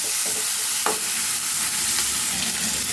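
Onions frying in a pan for a moong dal and spinach dal: a steady, loud sizzle with a brief stirring scrape partway through, close up and with no voices.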